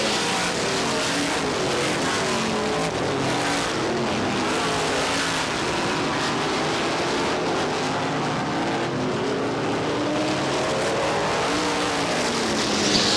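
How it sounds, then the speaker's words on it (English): A supermodified race car spins out on Star Speedway at a 1990 International Supermodified Association race, its engine roaring and wavering continuously with tire noise as other cars drone past at a steady loud level. "Joey Moriarty spins the number 51. Moriarty spinning the number 51."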